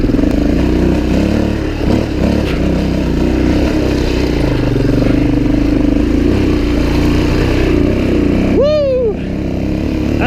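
A Suzuki DRZ400e dirt bike pulls hard up a big hill, its engine droning loudly and continuously at close range. A brief high whistling chirp sounds near the end.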